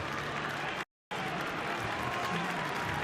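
A Newcastle rugby league crowd applauds and cheers in a steady, distant wash of clapping and voices at an NRL match. The roar drops out briefly near the start, and faint commentary talk sits under it.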